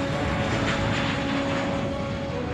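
A fully loaded cargo plane takes off at a huge air package hub with a steady, droning engine roar and a faint tonal whine running through it, continuous and fairly loud.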